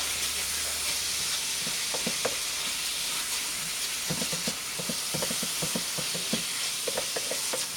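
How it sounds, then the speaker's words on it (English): Angus beef sizzles softly in a pan while a spatula stirs it, with scattered scraping taps and clinks over a constant hiss. "as you stir it, then you won't really feel that the saturation because you can mix it around to form a homogeneous beef, fried beef"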